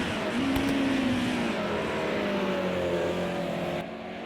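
A BMW M1 Group A race car engine roars past at Silverstone, its pitch sliding steadily as it goes by, loud and sustained before easing off near the end.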